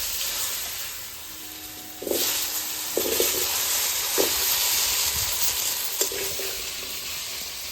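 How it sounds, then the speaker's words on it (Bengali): Four dried red chillies dropped into hot oil left from frying a fish head, sizzling steadily with a bright hiss and a few sharp crackling bursts as they hit the pan, close and alone. "মাছের মাথাটাকে ভেজে নামিয়েছি, সেই তেলের মধ্যে আমি দিয়ে দিলাম 4টে শুকনো লঙ্কা"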